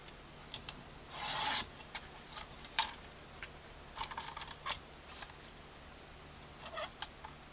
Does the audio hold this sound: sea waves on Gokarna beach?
no